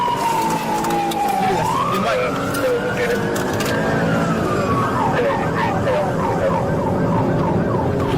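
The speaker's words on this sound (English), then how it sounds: "activated their emergency lights and siren" A loud police siren wails and then yelps in rapid rising-and-falling cycles during a high-speed pursuit, close by, over engine rumble and a voice on the radio.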